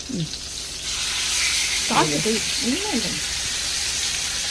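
Chicken wings frying in oil on an iron tawa, with a constant hiss of sizzling oil throughout and a few short voice-like murmurs over it.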